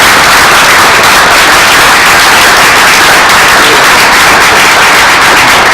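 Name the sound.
applause for school team at board meeting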